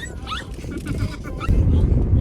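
A dog whimpers and yips with high, wavering whines amid chatter from several people in a room, suggesting the dog is anxious without its owner among strangers.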